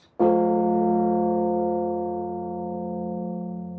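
A huge nine-ton carillon bell at the Mafra National Palace in Portugal is struck once from a pedal key, with a sharp onset and a deep, rich hum that rings on and slowly fades.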